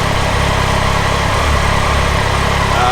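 A 2018 Triumph Tiger 800 motorcycle engine runs steadily at close range, a loud continuous rumble with a slimmer tucked-in muffler, heard alone with no talking.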